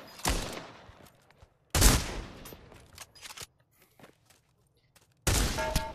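Gunfire in the VR shooter game Pavlov, three loud, close bursts of shots separated by quieter stretches with scattered clicks and footsteps.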